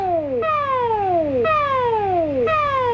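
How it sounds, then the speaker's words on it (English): Singapore Civil Defence Force public warning siren sounds a repeating signal of falling tones, three sweeps about a second apart, clear and steady with no talking. "The sound you just heard was a signal to tune in to MediaCorp radio or television for an important message from the SCDF."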